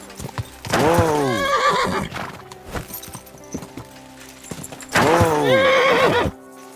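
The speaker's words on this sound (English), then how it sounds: "Horse like that would cost as much as a farm." A horse in Kingdom Come: Deliverance II whinnies loudly twice, several seconds apart, with hooves clopping in between and a brief voice nearby.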